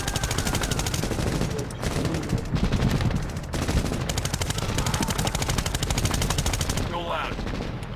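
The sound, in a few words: machine gun firing in video game Medal of Honor 2010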